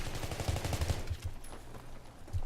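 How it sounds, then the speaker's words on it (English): Suppressed gunfire in Battlefield 3 close-quarters play, a fast burst of muffled shots followed by a few scattered single shots, moderately loud with no talk. "I can show you what I can do with this, with the suppressor on"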